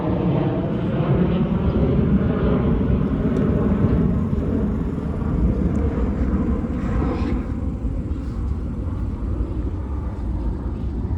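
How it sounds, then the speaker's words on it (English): A low, steady roar of an airplane climbing after takeoff over Howard Beach, Queens, New York City, heard as a continuous broadband rumble that holds fairly loud through the whole stretch. "I'm excited that actually the planes are coming by so consistently"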